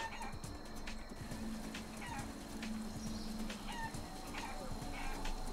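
Chickens cluck in the video game Guacamelee!, repeated short clucks and squawks scattered over the game's background music, fairly steady and mid-level with no talk.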